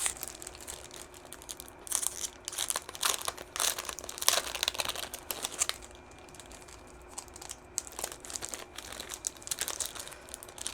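Cardboard game components from The Warp expansions, an all-in Kickstarter board game, rustle and crinkle as they are pulled from packaging, with steady soft crumpling and scattered sharper crackles throughout, close and fairly quiet, with no talk.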